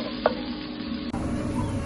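Onion sizzles in a very hot cast iron pan as a short, even crackling hiss, close up, with one faint knock near the start.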